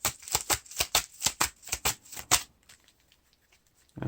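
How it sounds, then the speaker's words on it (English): A deck of Lord of the Rings card game cards is riffled and shuffled in about a dozen quick, crisp rhythmic bursts. Silence follows, then a faint rustle at the end. "We have to shuffle our deck"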